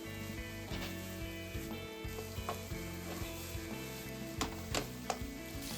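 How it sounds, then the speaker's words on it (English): Ground pork fries in a pan with a constant close sizzle, while a spatula scrapes and taps against the pan in intermittent strokes as the meat is stirred and broken up. "I add the ground pork to the pan and mix them well. I keep stirring until the meat breaks down."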